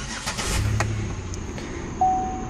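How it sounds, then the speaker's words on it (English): A 2006-2013 Chevy Impala engine cranks and catches at close range, a brief rising start settling into a steady idle, with a faint tone from the dash heating system continuing after. "and turn the car on"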